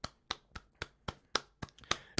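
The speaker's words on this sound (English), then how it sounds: "A mega round of applause for you" Roughly nine separate hand claps ring out at a steady, slightly uneven pace, crisp and fairly quiet, applauding a game jam submission.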